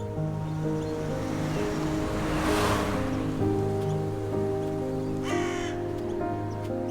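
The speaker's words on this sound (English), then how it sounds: "To the crow, the dead chick is nothing more than a meal." A crow near the shore caws loudly and close in repeated harsh calls over steady surf, with no voices.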